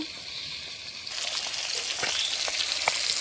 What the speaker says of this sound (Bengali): মাছগুলো এখানে ভাজা হোক, ততক্ষণ আমি আলু, সিম, ফুলকপিটা কেটে নেব।